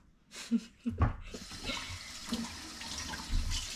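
Tap water running over hands being washed at a sink, a steady broadband splash with a few brief bumps and faint voices in the background.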